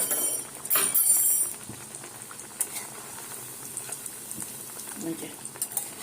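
Pieces of fish frying in oil in a pan on a gas flame, a steady faint sizzle with brief louder hissing bursts near the start and a few soft utensil clicks and stirring sounds.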